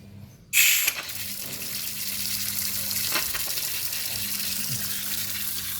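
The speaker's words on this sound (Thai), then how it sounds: "เปิดน้ำจริงนะครับ" Water rushes steadily out of the tank of a leaking Hitachi water pump under repair, a loud broadband hiss starting abruptly with a brief splash, then continuing evenly for several seconds with a faint low hum beneath.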